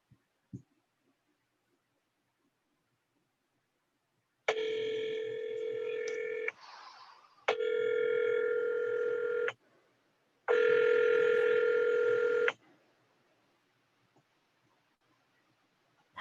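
A telephone on a radio call-in show rings in three long electronic bursts separated by short pauses. The rings are clear and loud against near silence.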